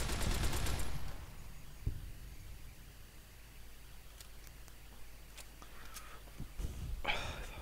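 Sharp gunshots crack out in Fallout New Vegas, a dense burst at the start and then scattered single shots and a quick flurry near the end, moderately loud over a quiet hiss with no talking.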